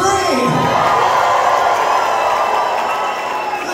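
A theatre audience at the O2 Apollo Manchester bursts into loud, dense cheering, whooping and applause for a drag contestant at a live comedy show, a sustained roar filling the hall with a voice sliding down at the start.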